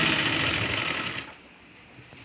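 A sewing machine stitches a fabric shoulder bag in a fast, close, rattling run for about a second before stopping, leaving quiet room sound and a faint clink.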